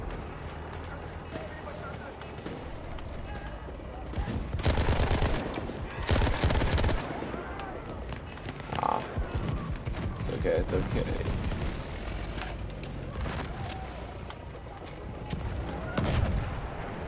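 Light machine gun fire in Battlefield 1, played as a support class at close range, with dense bursts of rapid shots, loudest around the middle and near the end, mixed with other game noise and voices talking throughout.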